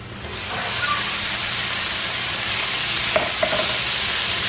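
Chicken tipped into a hot pan with noodles for chicken Alfredo fettuccine, a sudden loud sizzle that settles into steady close frying hiss, with a couple of sharp utensil clicks near the end.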